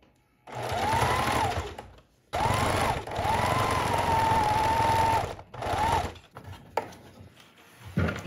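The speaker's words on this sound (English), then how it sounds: "I'm just gonna do a zigzag stitch right along the bottom of the hemline here" Sewing machine running a zigzag stitch along the hem of stretch material, several close bursts of motor whir with short pauses between them, ending in a few quieter handling knocks.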